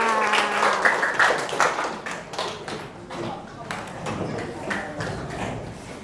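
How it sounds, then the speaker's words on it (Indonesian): Students in an Indonesian math class clap together in a round of applause, dense overlapping claps with some voices mixed in, fairly close and steady throughout. "boleh kasih tepuk tangan untuk kita semua."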